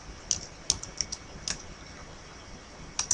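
Typing on a computer keyboard: a few quick, crisp key clicks in small clusters with short gaps between, close and fairly quiet over a faint steady hum.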